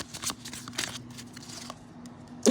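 Tarot cards are shuffled close up in a quiet room, giving soft papery riffles and a brief burst of rapid card flutter, with a steady low hum underneath.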